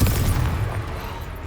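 A Confringo blasting spell goes off in Hogwarts Legacy, a heavy booming explosion with a strong low rumble that lingers and slowly fades over a second and a half, loud and close with no talking.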